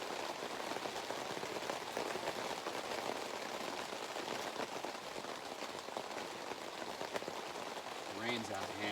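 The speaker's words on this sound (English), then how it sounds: "Rain's out of hand." Heavy rain pouring steadily outdoors, a dense continuous hiss of drops on surfaces that stays loud throughout, with a voice briefly emerging near the end.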